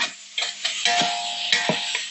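Ground garam masala spices are sautéed in a pan for mushroom chicken dum biryani, with scraping stirs over a soft sizzle, close up and with no talking.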